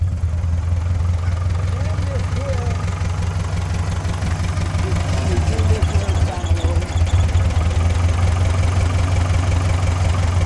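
A 1953 Ford Jubilee tractor fitted with a loader, its engine idling and chugging steadily and loud up close, with a pulsing low rumble that swells slightly as the machine is moved; voices can be heard faintly in the background.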